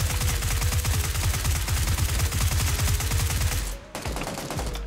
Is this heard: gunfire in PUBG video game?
yes